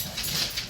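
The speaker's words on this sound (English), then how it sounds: "You can hear the dogs." Dogs whimpering or panting nearby in a home, a brief soft whine that rises and falls over a fraction of a second, alone without talk.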